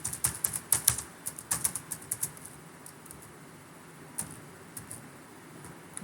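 Quick irregular clicks of typing on a computer keyboard, a burst of keystrokes, a pause, then a few more scattered taps, close and fairly quiet with no talk.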